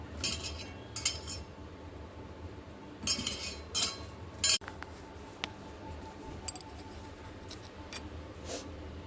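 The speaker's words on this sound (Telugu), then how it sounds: "ఇప్పుడు దీన్ని మనము నీట్గా అంతా కలిసేలా కలుపుకోవాలండి కొంచెం స్మాష్ అయ్యేలాగా" A spoon scrapes and clinks against a bowl while mixing and mashing cooked dal with coriander, with bursts of clatter early on, then quieter intermittent taps.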